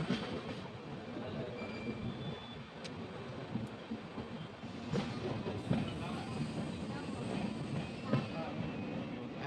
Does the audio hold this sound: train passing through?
yes